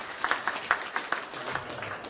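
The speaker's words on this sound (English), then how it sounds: "I think a round of applause is appropriate." A small church audience claps after a talk, a fairly sparse and quiet round of hand claps with individual claps distinguishable in an irregular patter lasting a couple of seconds.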